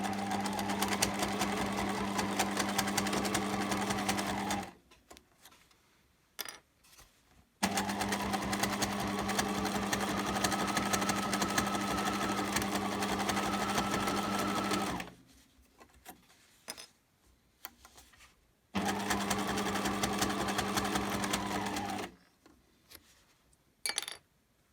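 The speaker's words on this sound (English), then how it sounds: "I'm now just going to sew some intentionally wavy lines down my binding" A sewing machine stitches wavy lines down fabric binding for a two-zip pouch, running in three long steady bursts with brief quiet pauses between, with faint handling clicks in the gaps.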